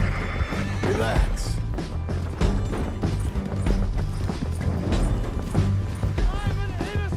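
Horses whinny and gallop in the Red Dead Redemption 2 video game, with loud neighs over rapid hoof clip-clops, backed by a low music bed while a voice speaks briefly.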